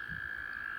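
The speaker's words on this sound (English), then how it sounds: "By late spring, the American toads had begun their breeding rituals." A sustained, steady trill of American toads calling at a breeding pond, one continuous high buzzing note holding level throughout without a break, moderately loud and unaccompanied.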